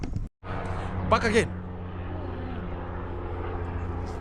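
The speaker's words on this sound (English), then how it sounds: "Too much helicopters." Helicopters passing overhead produce a steady, moderately loud droning rumble that persists throughout, with a brief voice near the start.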